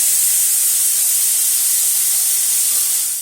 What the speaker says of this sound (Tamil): 2 ஸ்பூன் எண்ணெய் ஊற்றிட்டு அந்த தந்தூரி மசாலாலாம் பண்ணோம் இல்லையா, அந்த காய்கறி போட்டு கொஞ்சம் ஃப்ரை பண்ணிக்கலாம்.